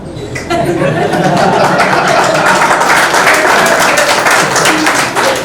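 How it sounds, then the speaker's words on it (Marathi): Audience applause at a school gathering: a sustained wash of clapping from a crowd that swells quickly and holds steady for several seconds, with murmuring and light laughter underneath. "आनंद झालेल्यांना टाळ्या वाजवता येतात."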